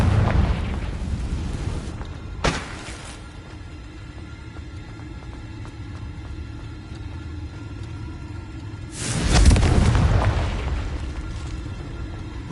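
Confringo blasting-spell explosions in the Hogwarts Legacy video game: a deep booming blast at the start, another short burst soon after, then a heavier rumbling explosion later that fades slowly.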